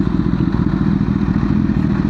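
A 2019 Honda CBR1000RR SC77 sport motorcycle engine rumbles loud and close as the bike rides along, a continuous throaty drone with a slight rattle.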